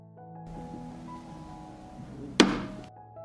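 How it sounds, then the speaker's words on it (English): A pot of water holding jars is set down on a stove, giving a single sharp metallic thunk near the end of an otherwise quiet stretch. "I put the pan on the stove."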